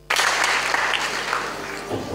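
A theatre audience applauding the stars of the Maly Theatre on tour in Kazan, a sudden full burst of clapping that swells and holds as a dense wash, then slowly thins.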